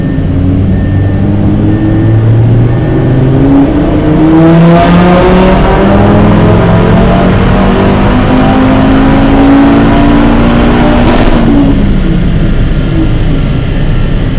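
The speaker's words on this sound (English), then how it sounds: "I just activate the dyno, say yes, we are prepared for measuring, just go down, and now full power." Tuned Audi RS3 8V1 five-cylinder engine, stage 3 with TC550XT turbo, pulling at full power on a dyno, loud and close, with a long steady rising pitch as revs climb through the gears, then dropping off at the end.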